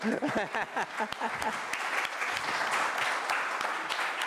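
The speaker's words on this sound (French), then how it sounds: "Vous pouvez nous applaudir alors comme les autres." Audience applause at a conference workshop on screens and addiction, opening with a few voices and scattered claps before swelling into dense, steady clapping from a seated crowd.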